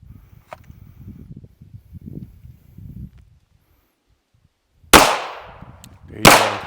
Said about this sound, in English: 5 shots again, nice and accurate, controlling your grip all the way through